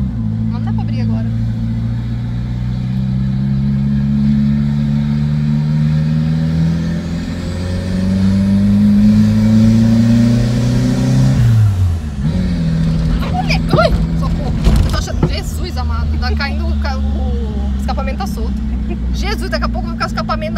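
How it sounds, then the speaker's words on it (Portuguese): A car engine revs hard, rising and falling in pitch, then drops off sharply before idling roughly with bursts of throttle; people talk over it. "Você tá acelerando demais, filho."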